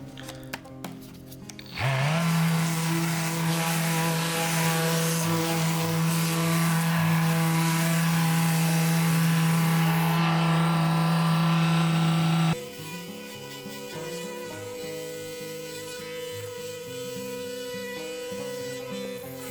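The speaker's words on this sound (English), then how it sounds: "I'm really impressed with the cordless sander" A cordless sander grinds concrete residue off plywood, starting with a sharp whine that holds loud and steady for about ten seconds before cutting back to a lower, rougher hum.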